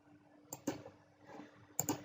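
A computer mouse gives a handful of quiet, crisp clicks, a pair early and a pair near the end, in an otherwise near-silent room.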